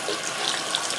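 Tap water runs steadily into a sink while a makeup brush is rinsed under the stream, a close, continuous splashing hiss with no talking.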